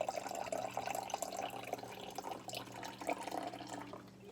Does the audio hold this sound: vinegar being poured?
yes